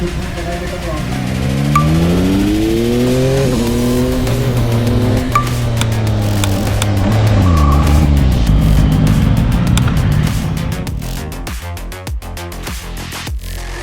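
A Yamaha MT-09 Y-AMT motorcycle with automated shifting accelerates hard in automatic AT mode. Its engine note climbs in rising sweeps through the gears, loud and close, then settles into a rough, sustained roar.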